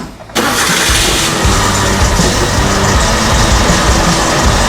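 A car engine roars loudly and steadily in a budget build, running on at a constant pitch with the clutch pressed; no drop-off or stall is audible before the sound continues to the end.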